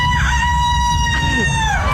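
A man imitates an angry rooster crowing, one loud, screamy cock-a-doodle-doo rising and falling over about two seconds, close and dominant over a low background hum.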